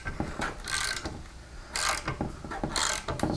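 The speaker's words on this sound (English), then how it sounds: "I'm going to loosen it a little bit, tighten it a little bit, kind of reform the threads as I'm taking it apart" Ratchet clicks in short bursts as a rusted bolt on the fuel system of a 1987 Chevy R10 is worked loose and tightened, close and moderately loud, with scraping metal handling between strokes.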